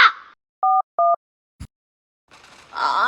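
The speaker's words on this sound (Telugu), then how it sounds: "సరే మన మిత్రరత్నాలకు ఫోన్ చేద్దాం." Two short electronic keypad tones from a phone being dialed, evenly spaced, followed by a brief click and then a rising burst of noise.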